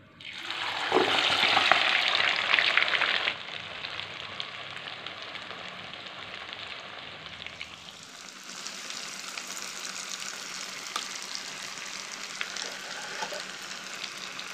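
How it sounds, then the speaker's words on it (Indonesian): Steady crackling sizzle of raw peanuts frying in hot oil, loud at first as they go in, then settling into a constant bubbling hiss. "Dan setelah kacang tanahnya sudah dingin ya, kita mulai goreng."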